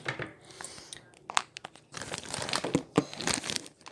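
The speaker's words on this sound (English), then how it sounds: "we will cut our apple with a serrated knife" A serrated knife saws through a pre-washed apple, giving close crunchy cuts and crinkly tearing bursts that grow denser in the second half, with no talking.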